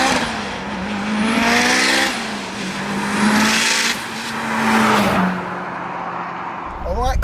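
A 550bhp 2.3 stroker Mitsubishi Evo 6 engine revs hard under boost from inside the car, loud and rising in repeated surges with gear changes between them.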